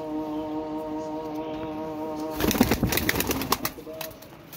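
A golden pigeon from a breeder pair coos close by, a steady tonal hum giving way midway to louder, busier fluttering and calling, with no talk.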